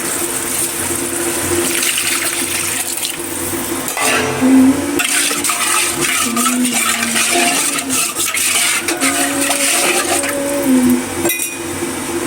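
Curry broth pours into a cooking pan of fish curry, a sustained close liquid rush with light clinks of utensils, fairly loud and steady, with faint talk in the background.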